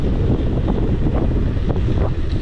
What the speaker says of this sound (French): Mais avec le vent de face,